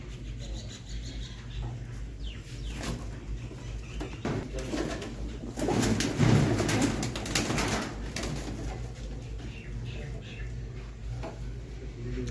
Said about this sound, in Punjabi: ਆ ਕਬੂਤਰ ਆ ਬਈ ਸਾਰੇ ਤੇ 12 ਕਬੂਤਰ ਆ